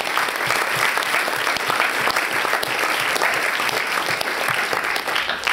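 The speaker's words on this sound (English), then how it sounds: "can we just have a round of applause for the speakers tonight?" A crowd claps steadily and loudly throughout, a dense, sustained round of applause for the speakers at a York Union debate, with no talking over it.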